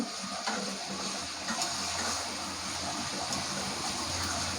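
Water is poured lightly into a chicken roast spice masala while cooking, a soft, steady trickle and hiss held at a quiet level throughout.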